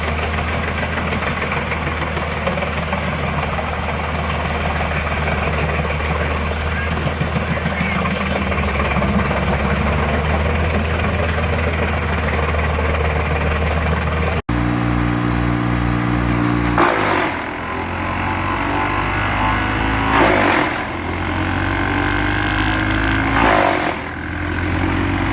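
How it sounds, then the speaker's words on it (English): Vermeer BC 700XL compact wood chipper with a 25-horsepower engine running steadily and loud, a constant engine drone that shifts character midway with deeper throbbing tones and surging revs, no voices. "Meet the Vermeer BC 700XL, a compact but powerful wood chipper built for everyday performance."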